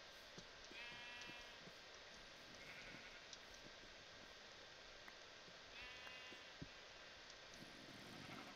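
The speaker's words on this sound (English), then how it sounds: "Boy, there are a lot of sheep around here." Sheep in the BlockHeads game bleat faintly a few times, brief wavering calls spread across a steady soft background hiss with occasional light ticks, no talk.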